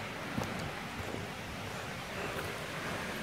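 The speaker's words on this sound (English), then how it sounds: "Sounds like a definitely another waterfall" Steady broadband rush of a waterfall on the Hornbeck Trail, heard from a distance on the approach and holding a constant wash of falling water for the whole stretch, with no voices.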